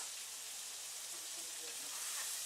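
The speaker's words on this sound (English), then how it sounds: "as I'm stirring again, I put the yeast flakes on" Vegetables and tofu chunks sizzle and fry steadily in a pan while being stirred with yeast flakes, a constant soft hiss throughout at low level with no talk.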